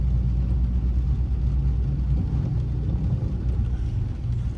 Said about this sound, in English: Now watch for your traffic coming up on the left side.